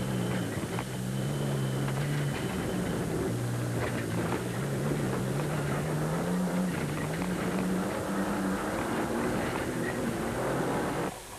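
A Nissan Sani rally truck is driven hard in the Sugarbelt 400, heard from inside the cab. The engine drones loudly and continuously and its pitch rises and falls with the gear changes and throttle.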